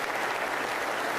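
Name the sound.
audience applause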